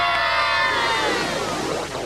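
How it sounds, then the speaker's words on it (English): Children at the 1999 PPG Neon Charity Challenge car race give a loud, sustained group cheer for the drivers, shouting and whooping together before it fades slightly at the end. "those kids certainly have a reason to give a big cheer to all of the drivers"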